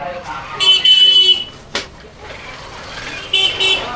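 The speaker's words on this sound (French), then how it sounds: "ça klaxonne fort, c'est abusé" Car horns honk repeatedly in a busy textile street in Kathmandu: two long, loud blasts, a quick toot, then another blast, over steady traffic noise.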